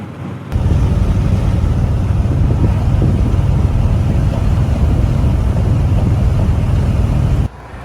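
Hot rod cruising at 65 miles an hour on a highway during the 2023 Hot Rod Power Tour: a loud, steady engine drone mixed with heavy wind and road roar. It runs unbroken for about seven seconds with no talking.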